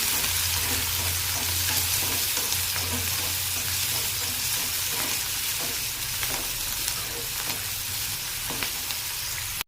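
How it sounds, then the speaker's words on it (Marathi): Cumin, garlic, green chili and onion fry in hot oil in a pan. A loud, continuous sizzle fills the scene close up, broken by soft scraping as the mix is stirred, with no talking. "तेल गरम झालेलं आहे। आता याच्यामध्ये थोडंसं जिरं टाकूया, थोडासा लसूण, हिरवी मिरची, कांदा, याला परतून घेऊया।"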